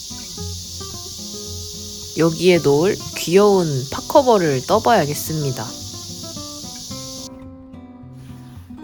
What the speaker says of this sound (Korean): 이 끔찍한 매미소리